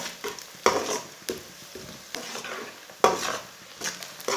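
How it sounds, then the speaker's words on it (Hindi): Finely chopped onion frying in oil over medium heat for veg macaroni, stirred with a utensil: a steady close sizzle broken by a few sharp scraping clatters against the pan, no voices. "तो मीडियम आंच पर हल्का सा ब्राउन कर लेना"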